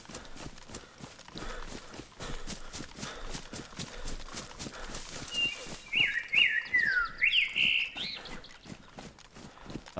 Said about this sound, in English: That was a loud bird.